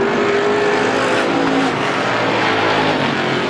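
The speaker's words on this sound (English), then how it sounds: "Now Russ Dufanet over driving the 42 just a little bit sideways through turns 1 and 2." Race cars roar around a speedway oval during a feature race, a loud, dense, continuous engine drone that fills the whole stretch.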